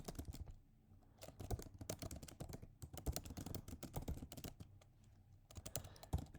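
Rapid keystrokes on a computer keyboard come in close, irregular bursts with brief pauses between them. No voice is heard.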